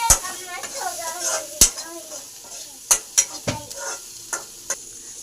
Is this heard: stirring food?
yes